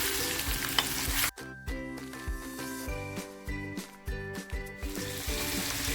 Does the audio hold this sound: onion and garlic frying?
yes